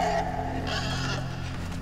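Grunting, bleating snorts from the pig creature in the video game Inside, heard close and continuous over a droning game background for about two seconds, with no talking.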